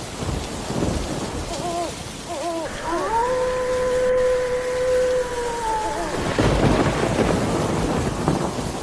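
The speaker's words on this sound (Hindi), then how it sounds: "बारिश तो पहले से भी ज्यादा तेज हो चुकी है" Heavy monsoon-style rain pours steadily at night with deep thunder rumbling through it. A sustained wavering tone hums above the downpour for a few seconds midway.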